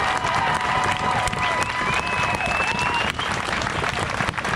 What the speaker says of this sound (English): Amanda and Christiane and all the rest of the people that put this together, give yourself a round of applause.